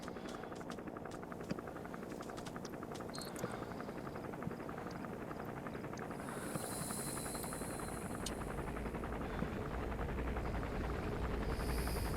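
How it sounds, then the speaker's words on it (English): Helicopter in the Metal Gear Solid V video game, a fast rotor chop throbbing continuously under a steady engine whine, fairly faint and unbroken. "it's just me and the helicopter"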